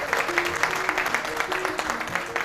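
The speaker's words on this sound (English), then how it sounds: "I just want to give a round of applause to Pam" A small group applauds for a colleague named Pam, brisk close clapping with a few voices mixed in, steady for the short stretch.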